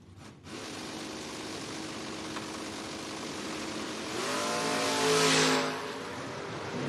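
Drag race between a Plymouth Valiant and a 1969 Chevy Nova: a steady engine roar swells into a loud, rising rev as the cars launch and pass, then settles back to a sustained drone.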